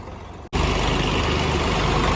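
A heavy Swaraj tractor engine, hitched to a 16-foot trolley, roars steadily at close range after a brief cut, a loud continuous rumble with no talking.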